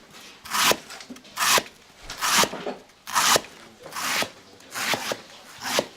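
Bare hands squash and mix finely sliced banana stem with salt in a basin, part of Balinese royal palace cooking in Bali: about seven wet, rasping rubs in a steady rhythm, close and moderately loud.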